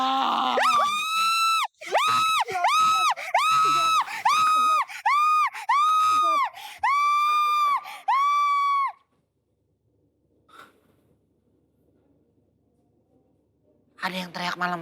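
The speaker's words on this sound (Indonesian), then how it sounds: "Ada yang teriak malam-malam." A person screams at night in a run of long, high, wavering shrieks, loud and close for about nine seconds, then near silence with a faint thump before voices return at the end.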